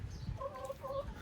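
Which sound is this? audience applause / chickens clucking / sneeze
chickens clucking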